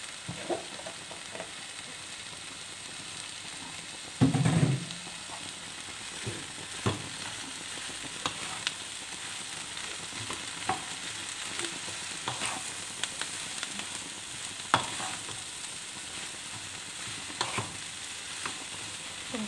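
Chopped vegetables sizzle steadily in a hot pan for a tofu and egg stir-fry, with a spatula stirring and scraping at irregular moments and one louder clatter near the start, all without talk.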